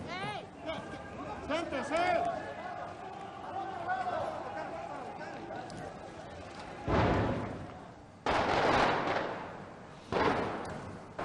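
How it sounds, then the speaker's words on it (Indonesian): Several loud, booming dynamite blasts go off one after another in central La Paz, Bolivia during a street protest, with crowd noise and shouting around them, heavy and reverberant outdoors. "Ledakan dinamit bergemuruh di pusat kota La Paz"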